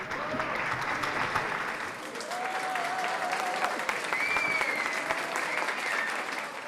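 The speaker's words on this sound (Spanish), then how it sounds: "la noche continuó entre bailes y aplausos" Audience applause at an evening dance and music event, a sustained wash of many hands clapping at moderate distance, steady throughout with faint whistles and crowd noise mixed in.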